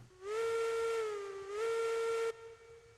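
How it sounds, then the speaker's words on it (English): A steam locomotive's whistle sounds in the Railroads Online game, two long loud harmonic blasts with a slight pitch dip between them and an abrupt cutoff, followed by a faint steady hiss. "I love the whistle, too."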